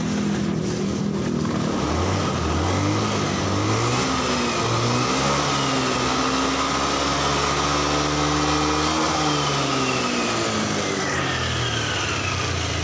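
A small Honda Scoopy fuel-injected motor scooter engine revs up and down repeatedly close by, its pitch rising and falling in loud whining sweeps.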